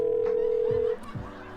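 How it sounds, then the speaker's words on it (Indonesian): A steady telephone tone holds for about a second before cutting off, placed as a radio station rings a caller on air, with faint low background sound after it. "Kita telepon dulu orangnya."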